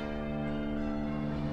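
Church bells in a city surrounded by tall concrete buildings ring as one sustained, dense toll, steady and fairly loud, with no voices over it.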